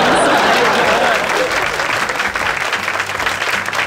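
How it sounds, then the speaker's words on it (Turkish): A group of people applauding together on a talk show, loud close clapping that starts strong and gradually thins and softens, with faint voices mixed in underneath. "Herkes hemen alkışladı ki sussun diye."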